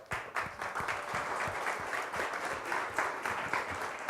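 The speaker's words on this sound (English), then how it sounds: "Big round of applause for y'all" Audience applause at a 2016 conference keynote, a steady dense clapping from a sizeable crowd filling the whole stretch.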